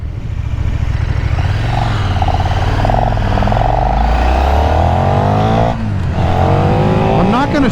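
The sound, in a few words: 2024 KTM 1390 Super Duke R motorcycle engine accelerating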